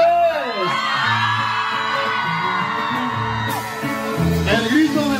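Crowd at a jaripeo festival in Petaluma, California letting out loud festive whoops and drawn-out shouted cries, several voices rising and falling together close by.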